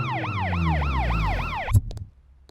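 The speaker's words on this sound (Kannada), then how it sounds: "ಆಂಬುಲೆನ್ಸ್." A wailing ambulance siren sweeps up and down in steady repeated cycles, loud and close, over a low rumbling engine, then cuts off abruptly, leaving a few faint knocks and quiet background.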